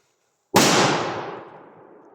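A Dumbum firecracker goes off in a forest: one loud, sharp bang after half a second of silence, followed by a long echoing decay through the trees.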